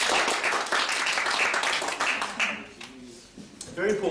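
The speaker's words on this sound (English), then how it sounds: "applause for that" Dense audience applause fills the first few seconds loudly and close, then tapers into scattered claps while a voice begins talking underneath.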